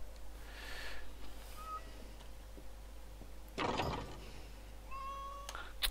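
A cat meows a few times in a Harry Potter Deathly Hallows video game, short tonal calls over a quiet humming background with a brief burst of mechanical clatter midway.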